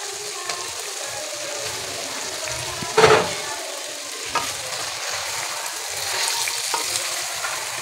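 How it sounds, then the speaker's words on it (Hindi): Chicken karahi sizzles steadily in the pan as tomatoes are added and stirred in, with one sharp clatter and a few lighter knocks over the continuous frying hiss, no talking. "और इसमें मैं टमाटर डालूंगी।"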